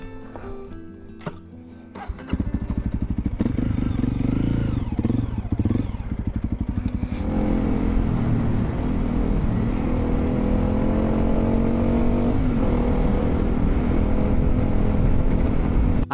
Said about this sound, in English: Let's start the bike and ride back.